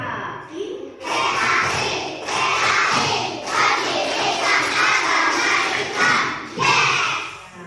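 A classroom of children does the Tepuk PAI clapping chant before a religious education lesson, bursts of rhythmic clapping and shouted chanting in repeated loud phrases, close and lively.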